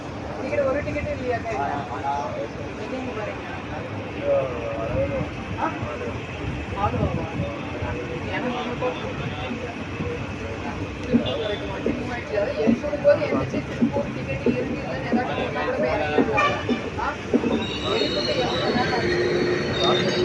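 A passenger train running from Coimbatore to Erode rumbles and rattles steadily at close range, with constant carriage noise and a murmur of voices in the background throughout.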